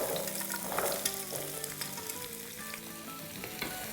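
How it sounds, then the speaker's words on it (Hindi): Onion and large chunks of carrot sauté over a medium-high flame for a chicken and potato soup stew, producing a loud, continuous sizzle with scattered crackles and pops and no voices. "फ्लेम जो है वो मीडियम हाई कर देते हैं। इसको सॉटे करेंगे थोड़ा"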